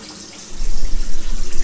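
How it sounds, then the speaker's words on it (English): A tap opened to full flow and pouring into a newly plumbed drain, starting with a quiet hiss then surging into a loud, close, steady gush of rushing water. "that's full flow from the tap"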